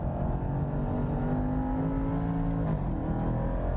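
A Jaguar XE SV Project 8 accelerating hard on the dry Portimao circuit, a steady loud engine drone with rising harmonic tones that dip briefly near the end, heard from inside the car.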